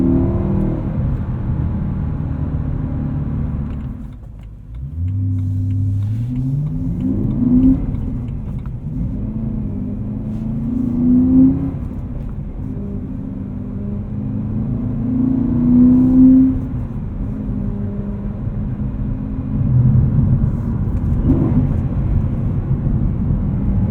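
A naturally aspirated BMW E92 M3 Lime Rock Edition with a six-speed manual revs hard under acceleration, its engine note climbing repeatedly through gears with brief dips between, loud and close from inside the car.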